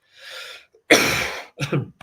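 A person coughs twice close to the microphone, a short soft cough followed by a harsher, louder one, then a brief throat-clearing rasp.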